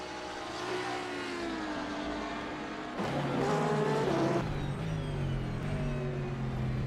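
A BMW GT3 race car in a sim-racing event at the Red Bull Ring drones past with a rising, shifting engine whine, the pitch jumping as it sweeps closer and louder midway before settling.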